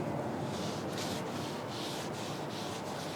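Cloth wiping wax onto a street rod's body, a soft rhythmic rubbing in repeated strokes, close and fairly quiet with no talk.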